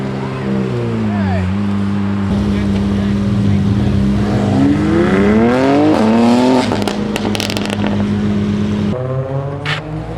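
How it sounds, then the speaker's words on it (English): A Lamborghini Aventador supercar rolls in close by, its engine rumbling low and then rising in pitch through a few revs. People's voices sound faintly over the engine noise. "The Aventador pulling in."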